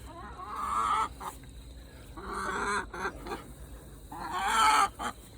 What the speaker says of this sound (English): so these are our ducks and chickens.